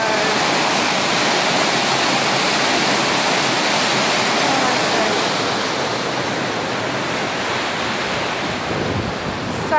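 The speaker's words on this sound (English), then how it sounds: "So much power in that river." Powerful rushing river water at Goring Mill on the Thames, a loud, dense, unbroken roar of churning flow close by, easing slightly near the end.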